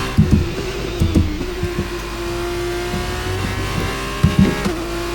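An F2 race car engine in the F1 23 video game at the Jeddah street circuit accelerates hard, a loud steady high-pitched whine climbing through the gears, with short clicks of upshifts and no talking.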